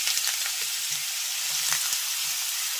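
Grated bottle gourd added to hot peanut oil with cumin sizzles and fries steadily, a soft continuous hiss with faint scattered stirring clicks.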